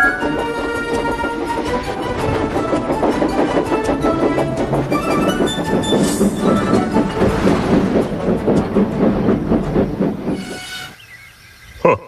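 A goods train rolls along the rails with steady clattering wheels, hissing steam and a few whistle-like tones, loud and continuous before fading away near the end.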